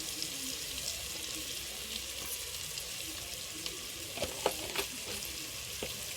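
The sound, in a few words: masala frying in pan for chicken biryani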